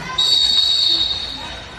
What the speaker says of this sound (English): the ref blows the whistle